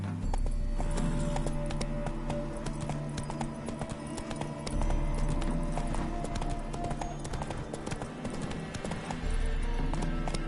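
Roach the horse clip-clops along steadily in The Witcher 3, hoof falls coming in an even trotting rhythm close by over a continuous low ambient bed, with someone briefly talking.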